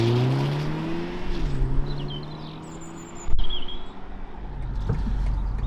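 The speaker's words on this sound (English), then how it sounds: "you get on a rougher surface like this, there is just a bit of tyre roar that you hear in the cabin" Steady low tyre roar inside the cabin of a BMW 420i driving over a rough road surface, a continuous rumble with some engine hum and a brief louder bump midway, no talking.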